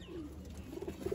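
Pigeons kept by a pigeon fancier coo softly nearby. A low call is followed by a short run of quick, throaty coos over steady background noise.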